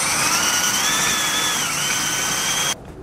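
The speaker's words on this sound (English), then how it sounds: "Once we get our pilot hole drilled, again, we're going to skip up a couple bits, bigger sizes." A power drill bores a hole in a steel frame bracket of a Ford F150 pickup, a steady high whine that holds for nearly three seconds and then cuts off abruptly.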